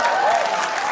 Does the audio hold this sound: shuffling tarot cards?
no